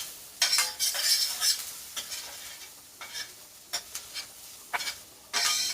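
Garlic sizzling in a hot pan while being stirred, with bursts of crackling frying that come and go in uneven pulses as the spoon moves, close and fairly loud, no voices.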